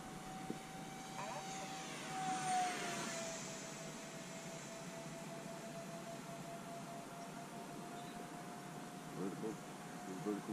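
A 3D printed twin 40mm EDF F-15 model jet flies overhead with a thin, steady whine from its electric ducted fans. It swells briefly as it passes near, and quiet voices speak in the background.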